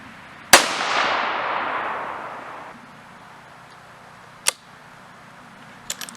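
A Howa rifle fires a single 40-grain Nosler Varmageddon round: a sharp, loud crack with a long fading rumble of echo afterward, then a couple of small, brief clicks or taps later on.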